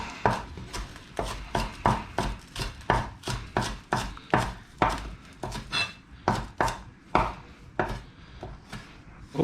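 Knife slicing food on a cutting board in a home kitchen while a mussel dish is prepared: a steady run of about twenty crisp, close chops in an even rhythm, with no talking.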